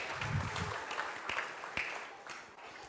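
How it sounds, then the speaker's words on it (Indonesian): Applause from a church congregation during a Sunday intergenerational service, a broad steady wash of clapping lasting a few seconds with some sharper individual claps standing out. "Tepuk tangan dulu."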